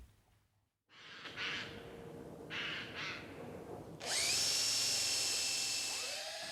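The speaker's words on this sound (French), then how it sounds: "un bruit de perceuse, une entaille dans l'écorce d'un bouleau" A drill boring into the bark of a birch tree in a quiet forest to tap sap, heard as short whirring bursts followed by a sustained high-pitched whine close up, with no talking.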